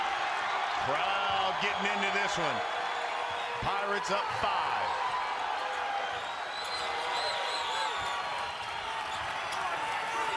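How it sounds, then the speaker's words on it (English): Crowd noise swells and roars steadily in a college basketball arena during a Texas Tech versus Seton Hall game, with a commentator talking over it throughout and sneakers squeaking on the court. "Crowd getting into this one."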